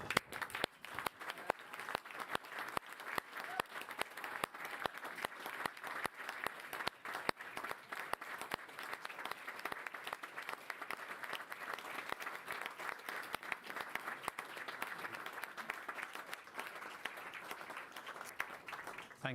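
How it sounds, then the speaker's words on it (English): At a surgical diplomates ceremony, a standing audience gives sustained applause for family, friends and supporters, a dense and continuous wash of many hands clapping in a large hall. "give a large round of applause to all your friends"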